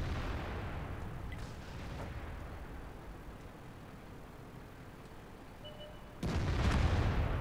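Artillery fire in the World of Tanks game: a steady rumbling battle ambience, then one sudden, loud, close boom near the end that keeps roaring afterward.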